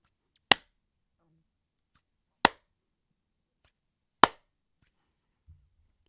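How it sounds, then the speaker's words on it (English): Three sharp, crisp hand claps, evenly spaced about two seconds apart, in an otherwise quiet room. "Hit record and start with 3 claps a few seconds apart."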